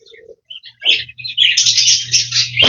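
Birds chirp and call at a feeding area in an Oregon wildlife safari park, a few scattered near tweets opening into a busy, continuous burst of chirping over a low steady hum.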